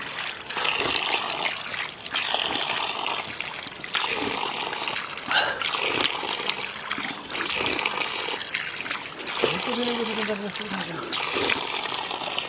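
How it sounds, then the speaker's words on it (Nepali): Cold natural village water runs in a steady, unbroken stream, a continuous nearby trickle and splash heard throughout, with voices briefly audible over it near the end. "त्यो बन्द पनि हुँदैन, कन्टिन्यू त्यतिको पानी आएको आइयो सधैँ"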